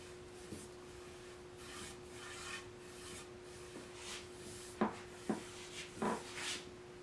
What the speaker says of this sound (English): It's going to take at least 2 coats of the wipe-on varnish.